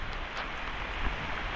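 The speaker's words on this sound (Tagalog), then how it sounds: "labas tayo ng lakas sa ulan." Heavy rain pours down steadily as a dense, constant hiss with no break, close and moderately loud, no voices over it.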